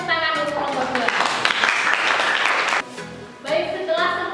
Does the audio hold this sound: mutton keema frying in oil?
no